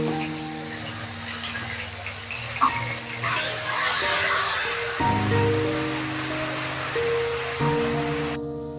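Onion paste hits hot oil already holding whole cumin seeds and bay leaf in a pan, cooking mung dal with fish head; a loud broadband sizzle swells, then settles into a steady fry over a low background hum.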